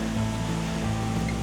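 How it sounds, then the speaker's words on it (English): A small stream in the Arkansas woods pours over rocky cascades into a creek, giving a steady, full rushing wash of water that stays close and constant for the whole brief moment, with no voices. "this stream leading to the main creek, and with it, just some absolutely gorgeous cascades"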